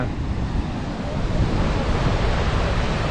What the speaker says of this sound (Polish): tutaj robi się z tego taki wodospad ta woda spada w dół